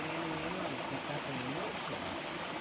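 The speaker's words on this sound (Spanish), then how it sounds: "se oye como que es un río gigante" A large river flows with a constant broadband rush of water, steady and fairly close, while a voice murmurs faintly underneath.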